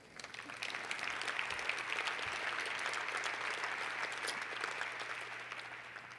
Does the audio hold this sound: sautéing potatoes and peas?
no